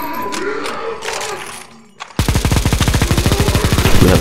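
Rapid automatic gunfire bursts out in a zombie escape mod boss fight in the video game CSGO, a loud sustained rattle that begins abruptly after a quieter stretch of distant battle noise and crowd shouts.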